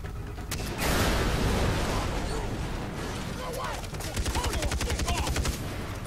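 Rapid automatic gunfire fills a Far Cry 3 firefight, a dense rattling stream of shots with sharper bursts toward the end, with a voice talking over the shooting.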